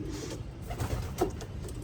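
Domestic pigeons in a pigeon loft give soft, low coos, one clearer coo near the end, over a steady background hum of the loft.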